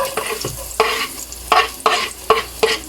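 Garlic stir-fries in a pan for miswa soup with meatballs, giving a crackling sizzle broken by several loud rhythmic scrapes of a spatula, close up with no talk.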